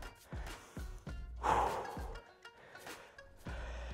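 Sharp breaths blown out during an exercise session, several forceful puffs in a steady rhythm, one louder rushing exhale midway, close and fairly quiet with no talking.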